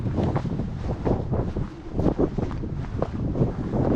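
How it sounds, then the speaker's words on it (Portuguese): Strong wind gusts steadily across a microphone on a mountain trail toward Pico do Marinzinho near Pico dos Marins, a constant rough rumble with brief louder buffets. "Ó, ventando pra caramba."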